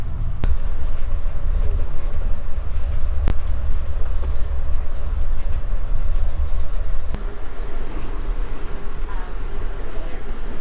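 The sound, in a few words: Amtrak train riding on tracks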